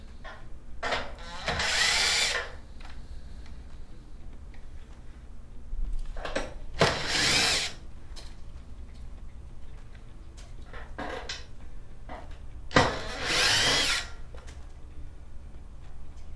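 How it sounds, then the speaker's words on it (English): A power drill whirs in short bursts under a Whirlpool Cabrio dryer to back out four quarter-bit screws, separated by quiet gaps with small handling clicks. "get the drill underneath to remove the 4 quarter bit screws"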